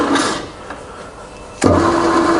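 A two-speed electric machine motor restarting after being stopped, a sudden jump from a low quiet hum to a steady louder running drone, close by with no talking.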